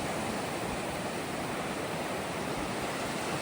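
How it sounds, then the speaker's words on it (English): Steady ocean surf at Cairns Beach on the Pacific, a continuous broadband wash of breaking waves with no distinct individual crashes, fairly loud and unbroken throughout with no voices. "We're filming from beautiful Cairns Beach"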